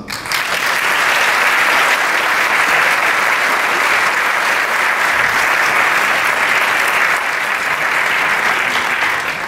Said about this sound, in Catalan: Un aplaudiment per l'Ajuntament